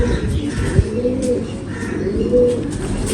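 A fancy pigeon coos softly and steadily in a loft, with a low continuous murmur of background cooing throughout and no speech.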